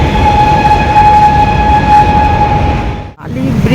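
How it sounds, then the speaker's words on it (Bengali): A train passing close by at a busy spot near a bridge, a loud continuous rumble and roar with a steady tonal whine, briefly cut off then resuming. "ওই যে ট্রেন যাচ্ছে, ট্রেন গেলে প্রচুর আওয়াজ হয়"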